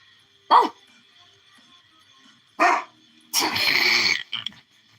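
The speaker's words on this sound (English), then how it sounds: "how do you like getting barked at" A husky barks close by, two sharp single barks a couple of seconds apart followed by a longer, drawn-out howling bark and a short yip, loud against a quiet room.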